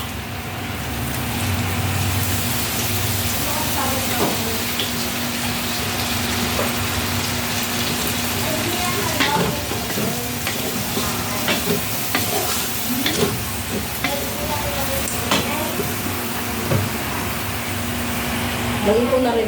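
Food sizzles loudly in a pan just after soy sauce is added, with steady frying hiss and repeated scraping stirs of a utensil against the pan throughout.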